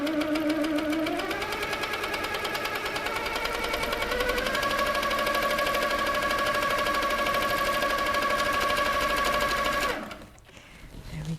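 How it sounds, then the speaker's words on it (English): A Handi Quilter Sweet Sixteen sewing machine stitches circles at a steady fast rate, its close, even mechanical whir rising slightly in pitch before cutting off near the end. "Then I'm going to do 2 or 3 stitches in the same place or just slightly apart, and then I'm going to do some stitching."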